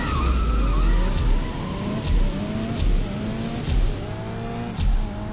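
A Porsche race car in the mobile racing game CSR2 accelerates hard, its engine whine climbing through repeated gear shifts with a rhythmic rise-and-drop roughly every second, loud and close.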